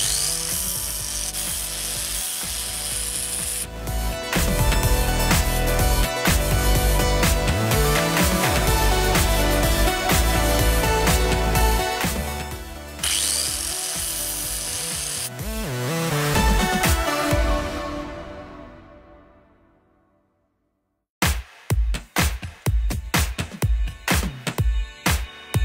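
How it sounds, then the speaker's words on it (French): An angle grinder shapes the tip of a steel punch, a loud continuous whine that rises and falls as the disc bites, winds down to silence, then returns in short repeated bursts. "je commence par faire la pointe à la meuleuse"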